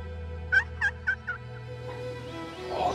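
Wild Rio Grande turkeys gobble in a series of four short, rising calls, moderately distant outdoors, followed by quieter rustling ambience.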